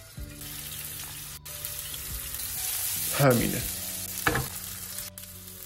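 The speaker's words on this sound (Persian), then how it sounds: "لپالو آبکش کنید، تو آب جوش بریزید و گوشت رو با هم سرخ کنیم." Pieces of meat frying in hot oil in a home kitchen while cooking a Persian stew, with steady close sizzling, a couple of louder crackling surges as the pieces are moved, and a brief spoken word.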